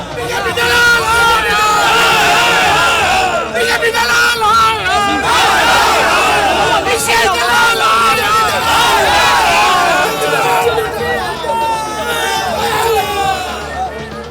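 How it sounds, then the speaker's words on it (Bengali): Crowd of protesters at night outside an office in West Bengal, many voices shouting and chanting slogans together in a loud, continuous babble with rhythmic surges throughout. "শুরু হয় স্লোগান"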